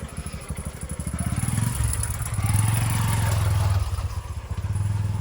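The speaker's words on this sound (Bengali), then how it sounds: "কে আবার বাইক নিয়ে আসছিল" A motorcycle engine drones close by on a muddy village road, its rumbling note rising and falling steadily as it passes, loud throughout with no talk over it.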